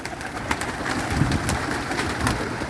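Pigeons cooing nearby, soft repeated calls over a steady background hum, with no talking.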